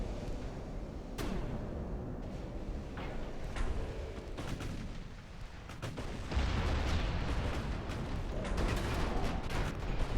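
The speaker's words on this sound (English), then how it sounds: "that was a few torpedo hits" Torpedoes strike warships in the naval battle game Ultimate Admiral: Dreadnoughts, heavy booming impacts and rumbling blasts rolling one after another over a dense, continuous din of battle.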